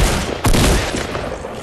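Dense burst of rapid gunfire in the video game Fortnite, loud and close, with a heavier blast midway and sustained shots that fill the whole stretch without any voices.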